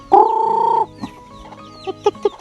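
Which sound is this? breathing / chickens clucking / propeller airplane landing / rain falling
chickens clucking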